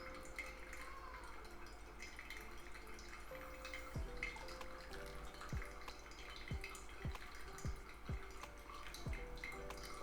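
Pour-over coffee drains through a paper filter, giving a quiet, steady trickle with soft, irregular drips falling into the vessel below.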